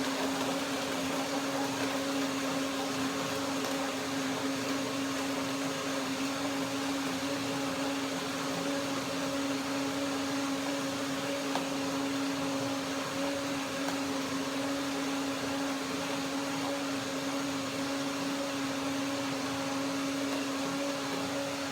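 A blender running a cherry kale smoothie, a steady loud motor whine with a constant droning hum that holds evenly for over twenty seconds, with no voices.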